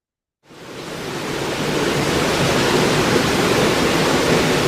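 A water sound effect for a game: a steady, loud rushing wash like surf or a waterfall rises in quickly and holds without a break, with no voices.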